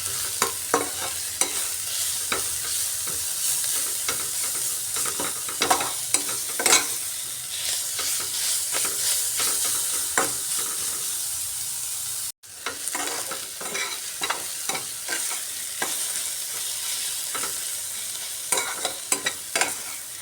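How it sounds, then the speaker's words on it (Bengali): Onions fry with spices in a pan and are stirred repeatedly. A close, continuous sizzle is broken by scraping strokes at an uneven rhythm, with a brief cut midway. "পেঁয়াজটাকে মশলার সাথে ভাজা ভাজা করে নিয়েছি।"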